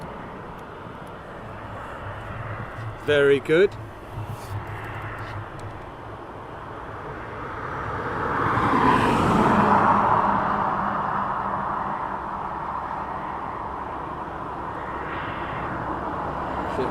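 An aircraft taxis in at East Midlands Airport at night with a steady roar of jet engines that swells to a peak midway and then eases. A brief voice speaks near the start.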